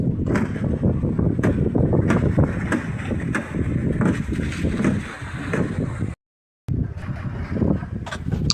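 Strong wind buffets a small fishing boat on a rough sea, a loud, continuous roar of gusts and rushing water with irregular thumps of the hull, briefly cut to silence near the end.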